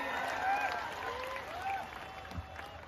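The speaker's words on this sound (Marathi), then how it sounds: "सचिन पुजारीसाठी करा की टाळ्या सर्वांनी" Spectators at a village wrestling ground clapping for Sachin Pujari, steady diffuse applause under a loud voice and crowd noise.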